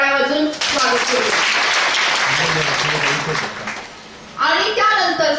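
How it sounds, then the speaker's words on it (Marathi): An audience at a save-the-girl-child anganwadi workshop in Sangamner breaks into sustained, dense applause between stretches of someone speaking, the clapping loud and continuous for several seconds before she resumes talking. "त्यांचं आपण टाळ्या वाजून स्वागत करू"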